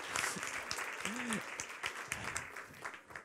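Audience applause greeting a speaker at a French talk, a steady wash of clapping throughout with some voices mixed in.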